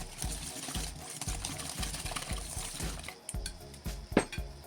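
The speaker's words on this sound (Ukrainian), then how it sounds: "Все гарно перемішуємо." Cake batter of sugar, melted butter and yogurt being stirred in a bowl, with a steady, rhythmic scraping and sloshing that repeats about twice a second and stays close and moderately loud, ending in a sharper knock near the end.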